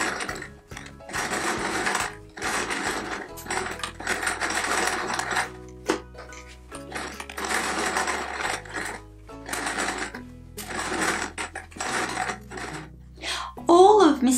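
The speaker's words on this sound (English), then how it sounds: "I'm now going to be stitching around the lily pad" A sewing machine stitches around the lily pad appliqué on a Peter Rabbit patchwork quilt, running in close, steady bursts of rapid stitching separated by short pauses, with a low hum underneath.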